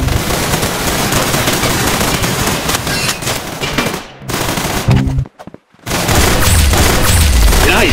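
Rapid video-game gunfire in Roblox Arsenal, loud and dense automatic bursts with sharp cracks, broken by a couple of short silent gaps before the shooting resumes.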